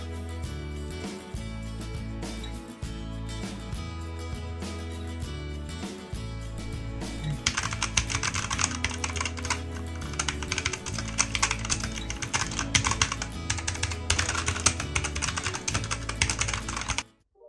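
Rapid, dense key clacking on a Redragon Devarajas K556 RGB mechanical gaming keyboard, steady typing that grows faster and brighter in the second half, close and alone over a low background hum.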